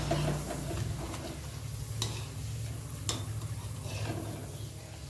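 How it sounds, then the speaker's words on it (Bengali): Papad crackle and sizzle as they fry in hot oil, a steady close bubbling hiss with a few sharp ticks from utensils. "তেল গরম হয়ে গেছে, এখন আমি পাঁপড়গুলো বানাই।"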